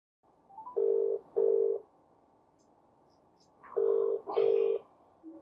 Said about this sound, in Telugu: మరి ఇందులోంచి చేస్తే అతను ఎత్తుతాడా ఫోన్?